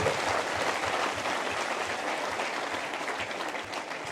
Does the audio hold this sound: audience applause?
yes